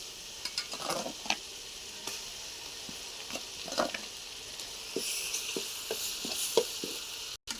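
Onions frying with ginger-chilli paste for pulao, a steady close sizzle with scattered spoon-stirring scrapes and clinks running throughout, no voices.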